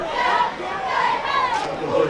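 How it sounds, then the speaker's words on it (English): A large crowd at a high school football game cheers and chants together, a loud, sustained roar of many voices with rising and falling calls. "There you see the cheerleaders getting this crowd hyped, getting this crowd enthusiastic"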